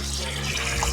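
Cold tap water runs steadily into a vessel of boiled quail eggs in a village outdoor kitchen, a continuous close splashing wash with faint voices in the background.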